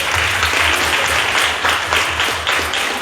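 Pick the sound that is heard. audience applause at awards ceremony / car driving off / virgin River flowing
audience applause at awards ceremony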